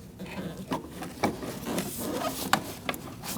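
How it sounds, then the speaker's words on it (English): Ignition coil connector on a 2008-2014 Mercedes-Benz C300 clicking into place during a spark plug job, with a few sharp plastic clicks amid close, soft rubbing and handling noise. "push it on, and then once you hear that click, you're going to lock it in place"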